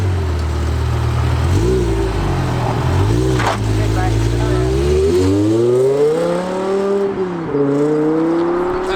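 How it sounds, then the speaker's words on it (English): A BMW E60 M5's V10 engine revs high and accelerates hard, its pitch climbing through several gear changes with a sharp, wailing tone, loud and close before pulling away. "Always great to see an E60 M5 with that V10 engine on the road."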